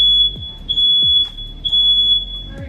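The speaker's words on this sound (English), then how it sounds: "this is why living in an apartment, the fire alarm always goes off." An apartment smoke alarm sounds a steady, piercing high beep that runs continuously and loud throughout, with some low thumps underneath.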